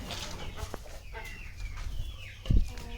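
On a free-range desi chicken farm, a hen clucks and chirps in short bursts up close, with other fowl faintly audible and a heavier thump near the end.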